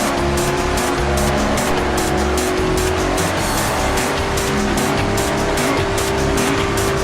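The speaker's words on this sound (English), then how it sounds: "He went into 5th gear and floored the gas." Racing car pulling hard in fifth gear, a loud continuous engine roar with rising tone and sharp tire squeal, pulsing rhythmically across several seconds, no voices.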